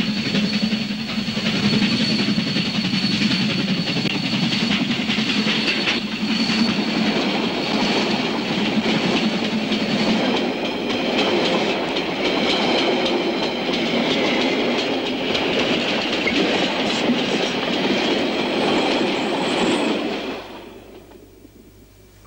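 A heavy train hauled by a big locomotive rumbles past on a single-line railway in New Zealand, with a continuous loud clatter of wheels on rails that holds steady for about twenty seconds before fading away abruptly.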